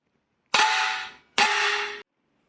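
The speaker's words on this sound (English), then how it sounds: "then I'm going to hit the plate against it" Two sharp metallic clangs as a metal plate is struck against bolt points in a 1981 UAZ 452 engine bay, each ringing briefly before fading, close by in quick succession with silence around them.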